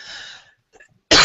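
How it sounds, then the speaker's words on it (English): A single loud, close cough bursts out abruptly at the end, after a near-silent pause with only faint breathy sounds. "excuse me, I'm sorry for the coughing"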